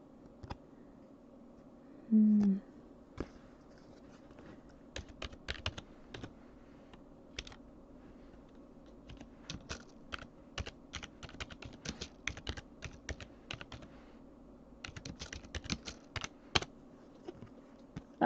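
Bursts of typing on a computer keyboard, with quick uneven clusters of light plastic key clicks spread through the stretch and brief pauses between them, close and fairly quiet, with a short voice sound near the start.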